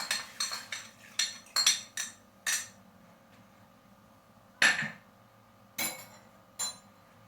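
A metal spoon clinks sharply against a bowl or jar again and again while pickling salt goes in for purslane pickle, with a quick run of close taps at first and then a few sparser clinks.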